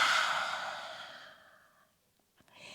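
A long, forceful yoga lion's breath exhale through the mouth, loud and close, breathy and fading out over about two seconds, followed by a quiet intake of breath.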